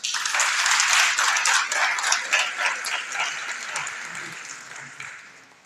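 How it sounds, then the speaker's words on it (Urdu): Students applaud together at a book review event, a dense burst of clapping that starts full and loud, then thins and fades over about six seconds. "ایک تالی ذرا اپنے لیے تو بجائیں."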